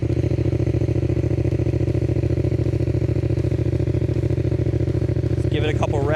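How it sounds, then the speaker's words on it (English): A Yamaha motorcycle fitted with a cheap aftermarket Walmart exhaust runs close and loud in a steady, throbbing idle with no clear revs. A brief, faint high chirping sound appears near the end. "Let's give it a couple revs, even though it may or may not be warm right now."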